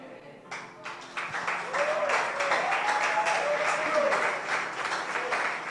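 A church congregation applauds at length after a sermon, with dense, steady clapping and shouts that swell and hold at full strength, joined by a voice calling out over the clapping.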